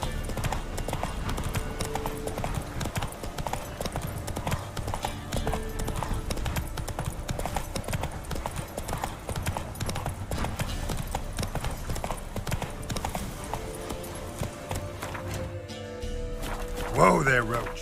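Roach, a horse in The Witcher, trots with steady, rhythmic clip-clop hoofbeats throughout under game music, with a brief whinny near the end.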